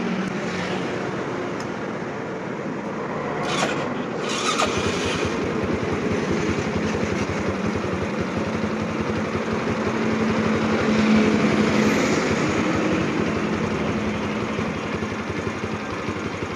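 A Honda Jupiter Z motorcycle engine idles steadily during a regulator (Tiger kiprok) charging-output test, giving a close, constant low rumble with no talking.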